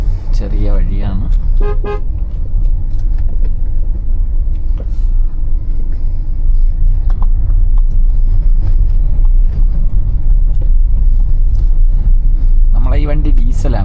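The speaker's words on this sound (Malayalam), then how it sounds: "ഡീസൽ വണ്ടിയാണ്. ഇതിൽ ഇത് ഹ്യുണ്ടായിയുടെ വെന്യൂ ആണ്." Hyundai Venue diesel car driving slowly along a narrow road, steady low engine and road rumble throughout, with a couple of short horn toots near the start and end; a person talks over it.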